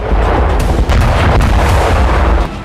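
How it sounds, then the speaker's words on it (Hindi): Cluster bomb carpet bombing in Bakhmut, heard as a continuous loud rumble of overlapping blasts and crackling detonations with a dense, heavy low end and no gaps. "बाख्मुत में यूक्रेन ने क्लस्टर बम से इस तरह कारपेट बॉम्बिंग की।"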